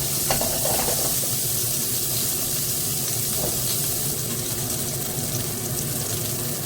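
Salmon pan-fries in a hot pan until crisp on both sides, giving a loud, dense, continuous sizzle and crackle heard up close, with no voices over it.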